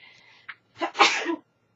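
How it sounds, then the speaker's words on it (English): A single loud sneeze with a short sharp intake of breath before it, close to the microphone, then quiet. "Oh boy, big sneeze."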